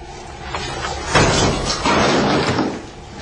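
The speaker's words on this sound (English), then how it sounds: "we're going to use the dynamic hammer" A dynamic hammer strikes a door during a breaching entry, giving a heavy impact thud and rattling crash that rings out for about two seconds.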